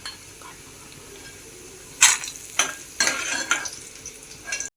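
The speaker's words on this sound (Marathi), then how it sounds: "सांडगे फ्राय करून घ्यायचे।" Sandge, dried lentil dumplings, frying in hot oil, with a steady close sizzle and a few louder bursts of scraping and stirring in the pan. No one speaks.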